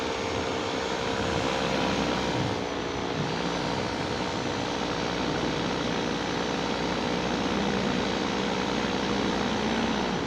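A steady engine drone at an airport, most likely a paramotor or a light airplane, holds a constant, moderately loud tone with a faint harmonic whine for the whole stretch, and no one speaks over it.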